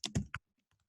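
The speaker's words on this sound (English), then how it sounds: "And Gina should be able to see me typing." Several quick keystrokes on a computer keyboard, close and fairly loud at first, then a few faint taps before trailing off into near silence.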